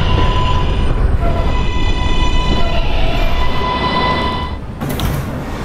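An R143 subway car on the R line in the New York subway runs steadily with a loud rumble and tonal motor whine throughout, easing slightly near the end before a brief hiss.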